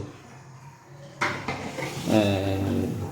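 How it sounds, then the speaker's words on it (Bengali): Vegetables tipped into a pot of khichuri land with a soft clatter of utensils against the pot, followed by a brief sizzle and stirring, close by and moderately loud, with no talking. "এই যে বন্ধুরা, এখন সবজিটা খিচুড়ির মধ্যে ঢেলে দেব।"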